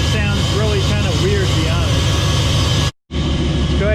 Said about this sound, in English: the sucking sound from the intake when it's idling is tremendously loud